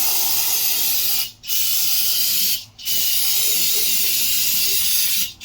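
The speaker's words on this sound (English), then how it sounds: "your brake cleaner and spray it in there." Brake cleaner sprayed in long hissing bursts onto the valve cover of a 2006-2010 Mercury Milan or Ford Fusion 2.3L, three close, loud sprays separated by brief pauses.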